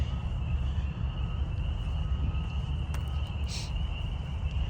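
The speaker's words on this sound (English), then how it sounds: "You can hear some of the tree frogs in the background here." Tree frogs call steadily in the background on a western North Carolina evening, a faint continuous high trill over low outdoor rumble, with a brief sharper chirp partway through.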